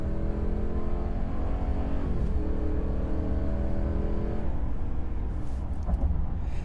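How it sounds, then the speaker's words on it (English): A 2026 RAM 2500 Laramie pickup with an 8-speed transmission accelerates at wide open throttle, heard from inside as a loud, continuous engine roar that climbs in pitch, drops at a shift, and climbs again. "All right, you guys want to see this acceleration? Here we go. Wide open throttle."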